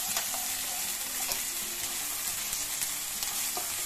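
Ginger garlic paste fries in a hot pan, crackling loudly and continuously close up, with light stirring scrapes and no voices.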